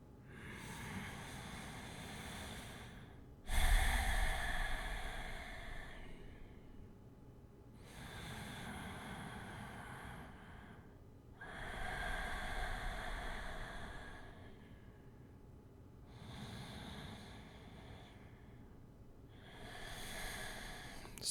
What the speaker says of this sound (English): hear what mine sounds like when I'm just breathing in and out of the nose